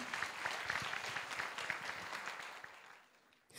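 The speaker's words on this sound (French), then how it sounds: "Merci d'acclamer très fort Jedida pour l'encourager" An audience applauds loudly for a young singer at a children's talent show, steady dense clapping that carries on for several seconds before trailing off at the end.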